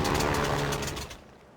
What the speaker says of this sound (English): I'm suffering a little bit of engine knock